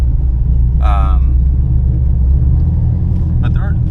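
A cammed Chevrolet Camaro rumbles steadily and close while driving, a low heavy drone throughout, with brief bits of a voice rising above it.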